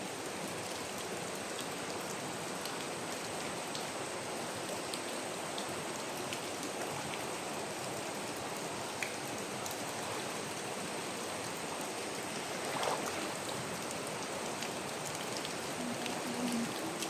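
A forest stream flows on a mountainside, giving a steady, even rush of water that holds at a constant moderate level with no voices over it.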